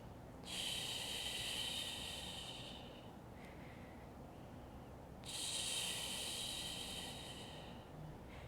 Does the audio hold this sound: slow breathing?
yes